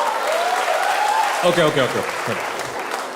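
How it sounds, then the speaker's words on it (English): Audience applause at a comedy show, a broad crackling burst of clapping that carries on steadily while someone speaks over it near the middle. "Don't finish your clapping now."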